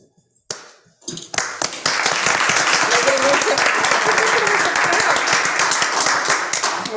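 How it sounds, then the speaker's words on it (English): Board members and attendees at a public school board meeting break into applause. A few isolated claps start it, then it swells into steady, dense clapping that carries on near and loud. "We have to clap"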